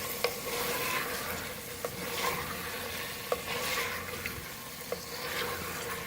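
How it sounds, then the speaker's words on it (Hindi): About 300 grams of capsicum cut in long strips is stirred together with mutton in a hot pan, under a steady close sizzle, while a spoon knocks against the pan about every second and a half. "शिमला मिर्च मैंने 300 ग्राम ली है और उसको इस शेप में काट लिया, लंबा लंबा, बहुत बारीक नहीं काटेंगे। गोश्त के साथ मिक्स करेंगे।"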